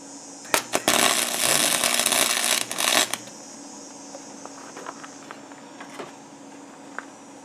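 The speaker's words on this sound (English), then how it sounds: "So I have my wire feed welder set on 4, power station number 1" A wire feed welder set on 4 tack-welds a metal bar: a loud crackling buzz lasting about two seconds near the start, then a quieter hum with scattered small ticks and clicks.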